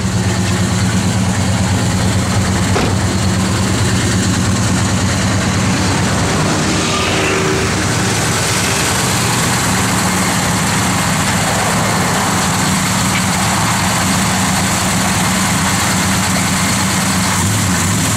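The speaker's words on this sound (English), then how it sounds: "That little 340 sounds good, guys." The 340 V8 in a 1969 Dodge Dart Swinger idles steadily and close by for the whole stretch, a continuous low rumble with a brief change partway through.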